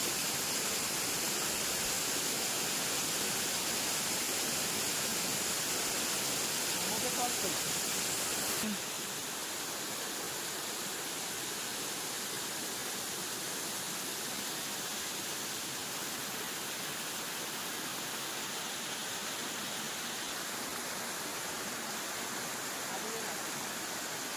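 Rushing stream water pours in a steady, loud, dense roar that drops slightly in level partway through, with no talking over it.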